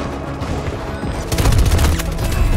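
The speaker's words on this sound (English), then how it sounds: "I do like the sound of the suppressor." Suppressed AEK rifle fire in the Battlefield 2042 video game, a muffled rapid burst that swells in the second half of the short clip, loud and close with a dense booming low end.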